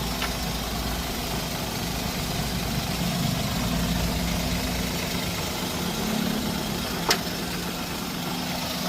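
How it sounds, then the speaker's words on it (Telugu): A Maruti Suzuki Alto 800 LXi engine idles at a used-car sale, a steady low hum that holds constant throughout with one brief click near the end. "ఇంజన్లో కూడా ఎలాంటి నాయిస్ లేదండి, ఇంజన్ సౌండ్ తప్పిడిచ్చి మనకు వేరే ఎలాంటి డిఫరెంట్ నాయిసెస్ అయితే ఏం లేవు"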